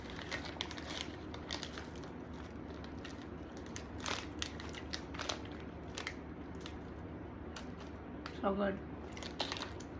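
Sour candy chewed and crunched close to the mouth, with sporadic crackly bites and crinkling, wrapper-like noises spread across the stretch, under a brief spoken comment and a low background hum.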